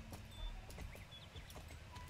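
Horse hooves galloping in the Star Stable game, a steady rapid clip-clop rhythm close by over an ambient outdoor backdrop, with a few faint chirps and tones.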